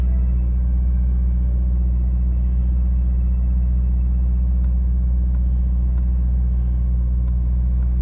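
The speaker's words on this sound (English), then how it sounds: "So right now I just started up. It's kind of cool outside, and it's idling at 1800" A car engine, just started on a cool day, idles high at around 1800 RPM. It makes a constant, heavy low rumble that stays steady and unbroken from start to finish, with no voices.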